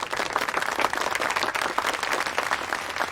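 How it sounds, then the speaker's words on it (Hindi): A classroom of students claps for a classmate in a lively, uneven burst of applause, close and fairly loud, with individual hand claps audible in the busy texture. "चंदा के लिए ताली बजा दो एक बार।"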